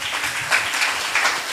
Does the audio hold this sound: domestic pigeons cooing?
no